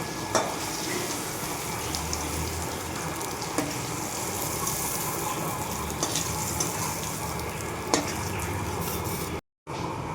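Paneer pieces fry in oil in a home kitchen, a dense, steady sizzle with small clicks and pops throughout, ending in a sudden brief cut to silence.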